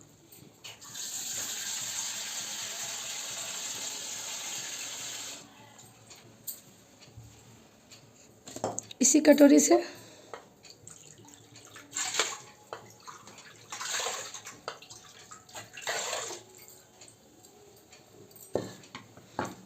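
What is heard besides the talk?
water poured into a pot from a bowl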